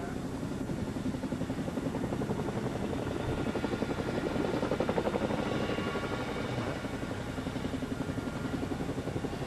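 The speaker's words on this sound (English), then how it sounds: "I'm just going to let you watch the helicopter demonstration" A helicopter flying a demonstration over a hydroplane race course in Seattle, 1994, gives a loud, steady rotor chop and engine roar that holds throughout and swells slightly midway, with no clear talk.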